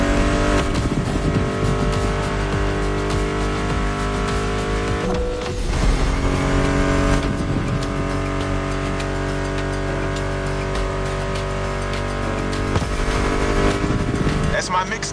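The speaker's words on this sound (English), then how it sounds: "Meshes well with the sound of the engines, you feel me?" Muscle car engines roar steadily in The Crew Motorsports racing game, a continuous loud drone with tire noise, running under a thick bed of music and a talking voice.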